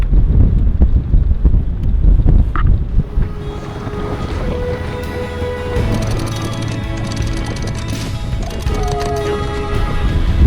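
Strong wind roars steadily across a sailboat under mainsail, with loud buffeting wind noise on the microphone and faint creaking and whistling rigging throughout.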